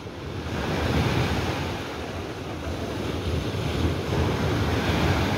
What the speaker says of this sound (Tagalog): Humahampas yung alon